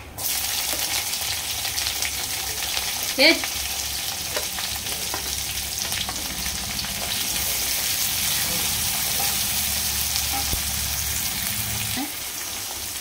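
Onions fry in a pan with a steady, close sizzling crackle, and a couple of brief stirring knocks sound against the pan.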